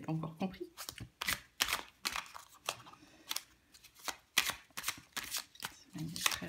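Tarot cards are shuffled up close in repeated quick riffling bursts, crisp papery flutters separated by short pauses, with faint handling sounds between them.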